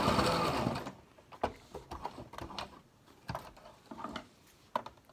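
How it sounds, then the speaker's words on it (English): A sewing machine back stitches a fabric face mask in a short burst at the start, followed by faint clicks and handling noises. "Gonna back stitch"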